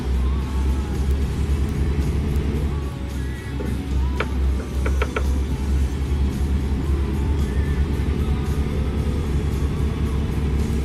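A truck approaches on a road in American Truck Simulator, a steady, fairly loud low engine rumble under road noise, with a few brief high clicks partway through.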